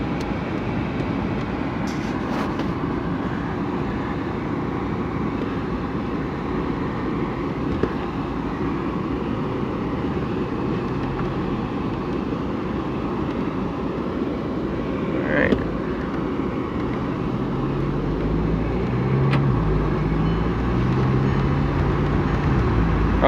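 A vehicle on a test drive gives a steady, continuous road and engine rumble from inside the cabin, with a low drone building toward the end and no talking.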